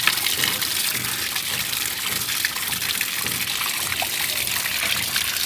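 Running tap water gushes steadily over fish being rinsed clean of salt and slime, a continuous close splashing flow with no talk.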